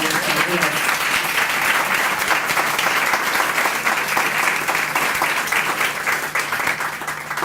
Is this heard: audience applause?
yes